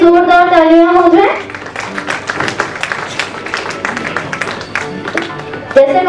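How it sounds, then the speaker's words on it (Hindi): A voice speaks briefly, then a crowd at an awards event in Indore breaks into loud applause for yoga performers. The clapping lasts several seconds before fading. "तो एक बार इन सभी के लिए जोरदार तालियां हो जाए"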